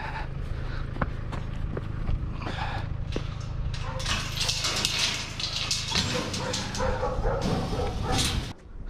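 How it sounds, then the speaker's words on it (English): A dog barks and yips repeatedly, making a fuss near a curbside scavenging spot, its bursts irregular over a low steady rumble, with faint movement noises and brief talk mixed in. "The dog is making a big fuss, mate."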